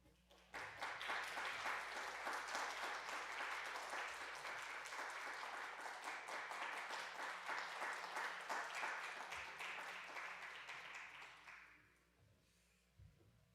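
Loud, sustained applause from a church congregation during a Sunday service, steady for about eleven seconds before tapering off into quiet room tone.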